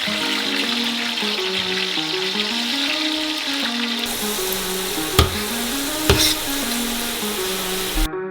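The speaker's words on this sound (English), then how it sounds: "And we start frying up the French fries in small portions." Frozen French fries sizzle in about three litres of hot oil in a saucepan, a dense continuous crackle and hiss with a few sharp clinks and stirring sounds near the end.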